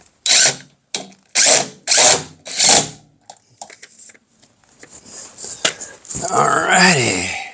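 A cordless Milwaukee power drill drives screws in a workshop with several short, loud whirring bursts in quick succession. Quieter clicks and handling noises follow, then a longer rising drill run at the end.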